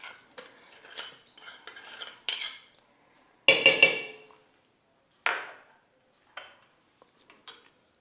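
Banana cake cream being mixed with a metal utensil in a bowl, giving bursts of scraping and clinking strokes separated by short pauses, close and fairly loud, with no talking.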